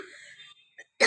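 A child coughs once, a short, rough throat-clearing cough close to the microphone, with brief quiet around it.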